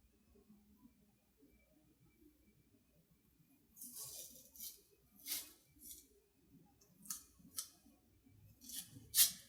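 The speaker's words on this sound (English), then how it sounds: "You can always cut your hypoallergenic tape in half to help better secure your probe to your extremity" Scissors snip hypoallergenic tape in a series of sharp, close cuts spaced a second or so apart, with a quiet room behind them and no speech.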